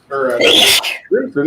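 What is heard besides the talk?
sneeze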